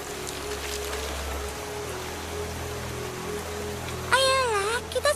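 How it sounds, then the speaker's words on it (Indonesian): Steady rain pours in an animated My Little Pony scene in the Appleloosa area, a soft continuous hiss that ends with a brief wavering whistle-like tone. "Hujannya semakin kencang, Apple Bloom."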